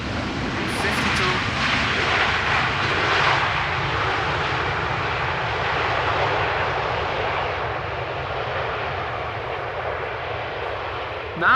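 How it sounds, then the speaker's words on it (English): A Transavia Boeing 737-800 airliner arriving at Amsterdam Schiphol gives a steady, fairly loud engine roar and hiss that slowly fades over the span, with a brief thump at the very end. "This is Transavia arriving from Lisbon. One of the many 737-800s."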